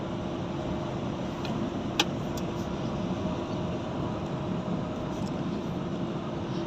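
A Scania R 440 truck engine runs at high revs, a steady loud drone filling the cab without a break, with faint brief clicks near the start.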